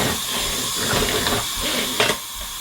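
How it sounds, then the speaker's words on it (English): A pressure pot on the stove releasing steam in a continuous loud hiss, with a brief sharper burst near the end. "Now my pressure pot is whistling away"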